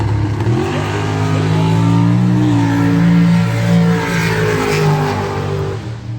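A 1980 Pontiac Trans Am engine held at full throttle at a test-and-tune drag event, a loud sustained roar with steady harmonics that climbs slightly and then eases near the end, with no talk over it.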